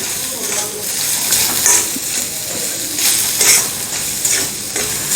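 Onions with chili powder, salt and turmeric are stirred in a hot pan for a black chickpea usal, a loud steady sizzle with repeated scraping spoon strokes, no talk.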